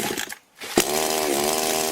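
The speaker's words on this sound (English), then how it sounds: "We start the chainsaw and get on the bike." A chainsaw engine mounted on a homemade chainsaw-powered bicycle with a gearbox and twin exhaust pipes roars into a steady, loud, buzzing run after a brief pause.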